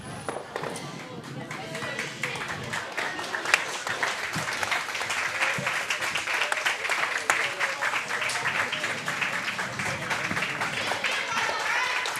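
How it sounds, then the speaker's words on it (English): Spectators in the warm room at a junior curling bonspiel applaud as players leave the ice, continuous mid-level clapping with a commentator talking over it. "Again, applause in the warm room as our featured sheet players exit the ice."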